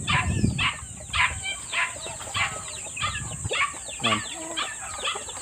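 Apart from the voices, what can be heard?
chickens at their new roosting area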